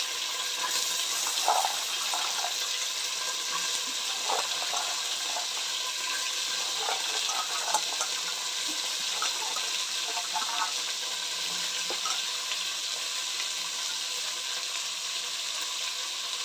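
Soaked chickpeas tipped into hot oil for village-style greens sambar give a continuous bright sizzle and hiss, with small crackles and pops scattered through it, fairly quiet and with no talking.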